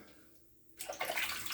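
Water splashes in briefly while shaving soap is worked into a lather, a quiet wet burst of dribbling and splashing after a near-silent moment.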